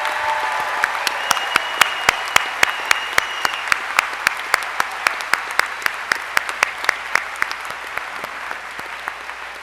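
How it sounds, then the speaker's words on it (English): Sustained applause from an audience at a 2013 honors convocation, honoring the faculty; dense, steady clapping with sharp individual claps standing out throughout, no voices on top. "please show your appreciation once again for our faculty by applauding them for their support."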